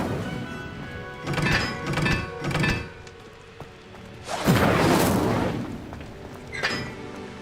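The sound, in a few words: Incendio fire spell cast in Hogwarts video game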